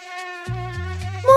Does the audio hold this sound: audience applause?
no